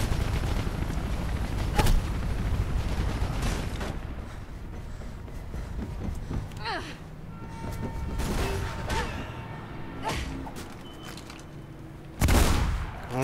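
Gunfire in the video game Mirror's Edge comes as scattered sharp shots and bursts over a dense, rumbling game soundscape, with one loud blast near the end.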